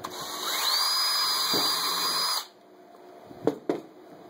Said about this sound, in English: this is the spot where I need to drill the new hole that I marked